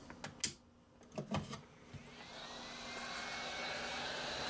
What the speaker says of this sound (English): So let me go hit this with the sander.